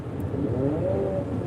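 A rear-wheel-drive Toyota 86 / Subaru BRZ revving on the road nearby, its engine tone climbing and holding over a steady traffic rumble, fairly loud and continuous.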